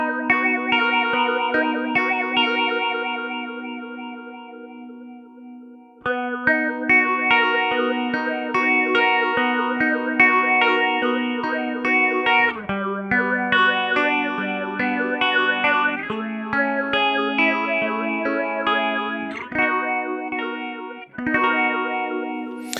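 Electric guitar through a Strymon Zelzah multidimensional phaser pedal, with sweeping, swirling phased chords and melodic lines ringing out in stereo, loud and sustained, with a short pause before the playing resumes, no talk.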